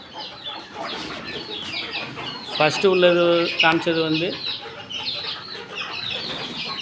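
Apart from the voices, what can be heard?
country chickens clucking on rooftop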